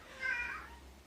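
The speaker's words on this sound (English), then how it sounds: "Meow, and she's hungry." A cat meows once because she is hungry, a single drawn-out cry that rises and fades over about a second, fairly close but soft against a quiet background hum.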